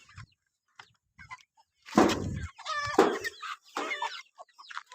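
Fighter-breed Aseel chickens cluck in a sequence of short, fairly close calls, with a few quieter clucks at first and then louder bursts.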